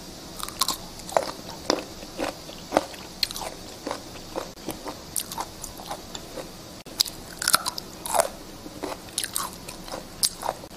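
Crisp crunching bites and chewing of fermented chili peppers eaten with mulberry leaves, close and fairly loud, a steady irregular run of sharp crunches across the whole stretch with no talk.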